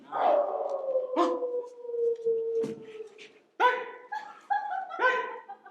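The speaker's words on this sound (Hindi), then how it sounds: "कुत्ते की रुलाई सुनकर आप ऐसे चौंक क्यों पड़े?" A dog howls and cries in long, wavering, mournful tones, followed by a few shorter yelping cries, fairly close and loud against a quiet background.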